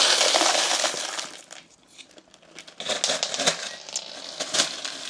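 Lacquered clay pebbles from a Monstera repot rolling and clattering across an indoor floor, a dense run of small hard clicks and rattles that thins out, then resumes in scattered bursts.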